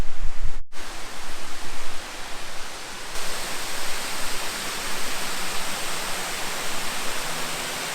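Upper DeSoto Falls, a large waterfall in Georgia, roars as a steady broadband rush of falling water, loud and continuous throughout with no voices.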